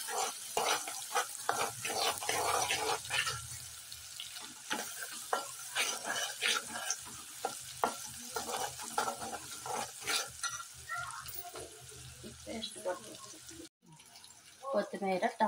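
Onions frying with ginger garlic paste in a pan for mutton curry make a continuous sizzle with frequent stirring, while a voice talks over the cooking.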